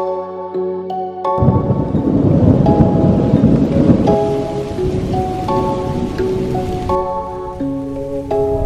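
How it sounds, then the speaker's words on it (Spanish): Heavy tropical downpour during Hurricane Elsa, loud and continuous rain hammering surfaces with thunder rumbling, while tonal music plays over it. "Dios, qué aguacero."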